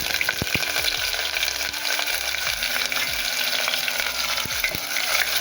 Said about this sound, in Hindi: अब मैं इसमें डालने जा रही प्याज